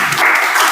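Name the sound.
applause, clapping hands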